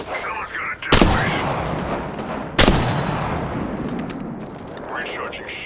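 Gunfire striking a player in Apex Legends on World's Edge: two sharp, loud impact bursts about a second and a half apart, each trailing into a rumbling decay over a steady background of game noise.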